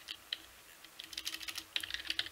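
Typing on a computer keyboard while setting up Emacs packages, a quick, irregular patter of close, soft key clicks with short pauses between bursts, no talking.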